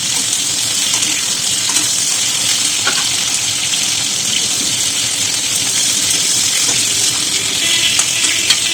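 Fish pieces fry in hot oil for a cauliflower and potato curry, producing a loud, steady, bright sizzle with faint scraping from stirring, heard close with no talk.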